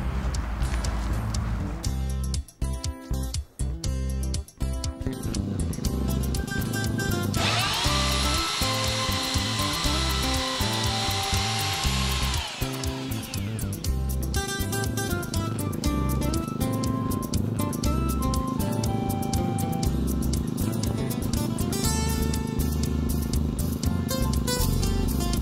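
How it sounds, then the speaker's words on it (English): Powered auger boring holes in the ground for telegraph poles: a loud, steady mechanical drone runs throughout, with a harsher grinding stretch partway through as the bit bites into soil. "We're going to put those in the ground using our auger now"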